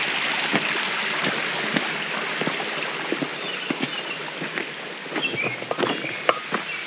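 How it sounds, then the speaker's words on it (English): A vehicle driving through a water crossing on a wooded trail, with a steady wash of splashing and rushing water and scattered sharper splashes and knocks close by, no talking. "Water crossing."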